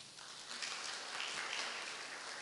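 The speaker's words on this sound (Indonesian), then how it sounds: "Tepuk tangan bagi Tuhan." A church congregation applauds during a Sunday worship service, a dense, steady wash of many hands clapping at once, sustained and fairly loud throughout with no voices rising above it.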